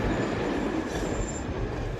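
Australian freight train rolling along the track, a steady broadband rumble and rush of wheels on rail with a faint high squeal, continuous and fairly close, no talk.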